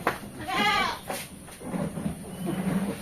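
A young male goat bleats once loudly and close with a wavering cry, followed by fainter animal rustling and a low murmur among livestock.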